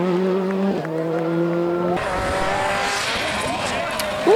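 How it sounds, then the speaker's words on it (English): Rally car doing a handbrake turn: a loud, high engine note that drops and shifts, then a rough, broadband skid and tire scrub with engine revving through it. "Rip that handbrake."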